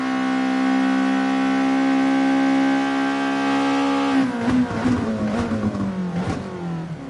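A race car engine in a video game holds a loud, steady high drone for several seconds, then breaks into rapid revving and shifting pitches that slide downward toward the end.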